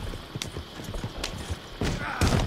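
Horse hooves clip-clop in a video game, a quick run of light rhythmic beats under the din of gameplay sounds, with a louder burst near the end.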